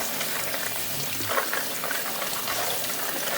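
Soaked almonds being rinsed under running water in a metal strainer, a steady close wash of splashing water with no talk.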